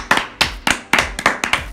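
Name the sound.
clapping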